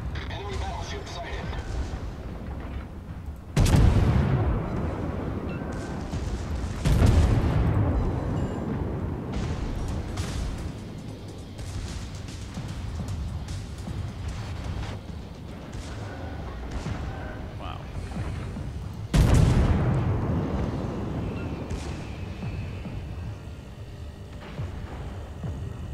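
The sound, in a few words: battleship artillery fire in video game World of Warships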